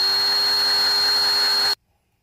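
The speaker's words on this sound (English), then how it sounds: "Finish drilling your 3/8 inch hole." A power drill bores a 3/8 inch hole for a DIY water filter coupling, a steady high whine holding for nearly two seconds before cutting off abruptly.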